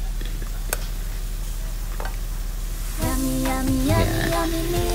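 Pancit Ilonggo with chicken meat and heart sizzles in a pan as oyster sauce goes in. Faint frying and light ticks come first, then a louder, steadier sizzle with stirring and a few clinks.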